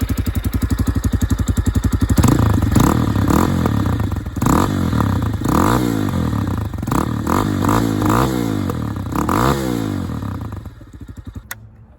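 A Spark SP250 D3 motorcycle engine revs up and down repeatedly, loud and close, the throttle blipped in rising and falling surges over a steady idle before settling back near the end.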